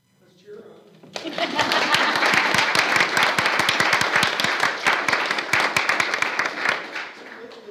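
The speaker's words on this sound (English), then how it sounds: "Let's cheer on." A school board meeting audience gives sustained applause for a teacher being honored, dense clapping that swells and holds loudly for several seconds before tapering off, with a brief murmur of voices beforehand.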